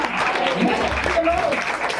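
A church congregation applauds during a Christmas sermon, a steady wash of many hands clapping throughout, with a voice speaking over it.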